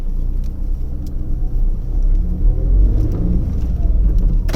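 A Tata Tiago 1.2 litre three-cylinder petrol car accelerating, heard from inside as a loud, steady low engine rumble with road noise that swells slightly over a few seconds, no talk.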